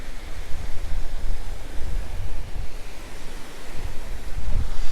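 Sea waves wash onto Alcudia beach in Mallorca near a pier, a continuous rumbling surf roar with gusty wind noise buffeting the microphone.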